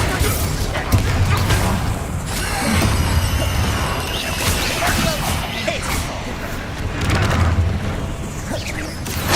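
Spell blasts from the Hogwarts Legacy video game, including Glacius, Bombarda and Confringo, bursting in loud crashing whooshes and booms one after another over continuous combat noise.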